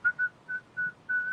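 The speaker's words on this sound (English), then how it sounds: "Very bad pitch on the whistling." A woman whistles a short tune solo, five clear sustained notes with brief gaps, close and moderately loud, with no talking over it.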